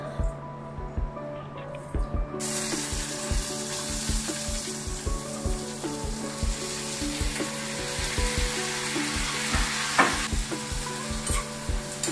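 Spicy kara chutney fries in a home kitchen pan, with a steady loud sizzle running throughout and regular stirring scrapes, and no one speaking.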